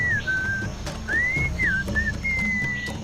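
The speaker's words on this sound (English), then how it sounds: "What is that enchanting whistling sound?" A melodic whistled tune from the video game Sam and Max: Beyond Time & Space, carried in several sliding phrases with short gaps, clear and steady over a low, continuous background hum.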